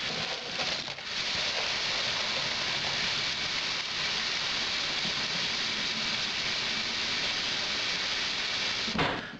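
Water pours steadily into a bottle to top it up during stovetop extract homebrewing, a continuous close rushing splash that runs unbroken for about nine seconds with no voices.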